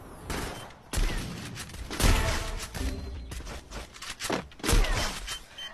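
Bombs go off in a video game as a run of loud, booming blasts with crackling debris, several bursts following one another over a few seconds.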